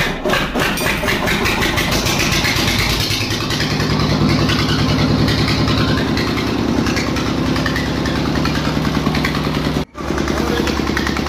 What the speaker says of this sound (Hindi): यहाँ पर इंजन अब स्टार्ट कर देते हैं।